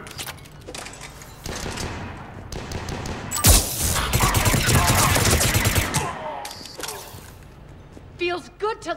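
Sustained burst of gunfire in the video game Mass Effect 3, a dense volley running for several seconds mid-clip, with speech and game voices before and after it.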